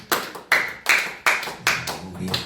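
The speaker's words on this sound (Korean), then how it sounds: "박수" A church congregation at a revival service claps together in an even, rhythmic beat, six crisp, close claps spaced evenly, with faint murmuring underneath toward the end.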